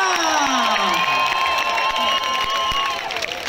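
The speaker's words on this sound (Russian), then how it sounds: "Аплодисментов очень много" A concert crowd applauds and cheers loudly at a live show with a virtuoso violinist, symphony orchestra and rock band, sustained clapping mixed with whoops and shouts throughout.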